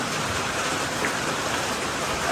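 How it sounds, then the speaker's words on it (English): Steady rain patters outdoors, a dense, even hiss of drops hitting surfaces close by with no voices. "And excuse the rain, but we need it."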